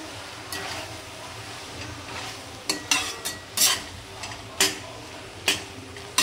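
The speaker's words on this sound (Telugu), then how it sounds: "గోంగూర వేసుకొని ఇలా కలుపుకోవాలి." Gongura leaves being stirred into cooked tomatoes in a pan for pachadi, with a low sizzle under a run of sharp spoon scrapes and taps against the pan that grow more frequent and louder toward the end.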